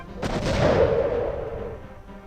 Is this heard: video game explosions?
yes